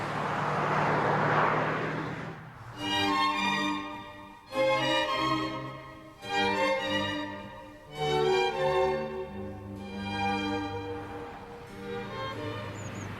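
A 1996 Subaru Impreza rally-bred road car accelerates through several gears, each loud rising engine pull broken by brief dips at the shifts, heard close and alone.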